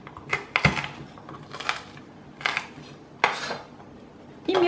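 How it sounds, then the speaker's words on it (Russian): A knife blade pressed down on about 20 g of garlic cloves on a board, giving several sharp, close knocks and crunches in quick succession with short quiet gaps between them. "Чеснок раздавлю."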